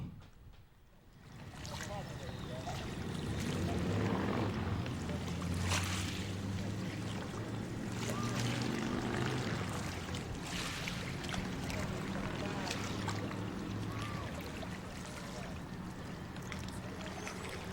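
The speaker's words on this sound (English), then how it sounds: "I'm waiting for a boat to appear. It's heading upstream." A large boat heading upstream in Ecorse, Michigan drones low and steady in the distance, a constant engine hum with faint water and wind noise around it.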